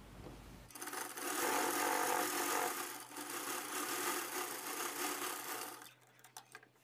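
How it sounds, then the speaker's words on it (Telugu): A sewing machine runs steadily for several seconds, top-stitching the lining of a size 36 boat neck blouse, then slows and stops with a few faint clicks; no speech. "ఇక్కడ ఒక టాప్ స్టిచ్ అన్నది వేస్తే మనం వాష్ చేసిన తర్వాత ఈ లైనింగ్ అన్నది ఇలాగా లూజ్ అయ్యి ఇలా రావడాలు అవి ఉండదన్నమాట"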